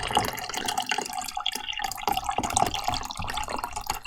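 Liquid pouring out of a container in Scrap Mechanic, a steady splashing, trickling stream with dripping, bubbly detail, moderately quiet and continuous without voices.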